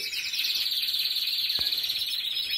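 A timbrado canary sings steadily, a bright sustained trill running throughout, with one brief click partway through and no voices.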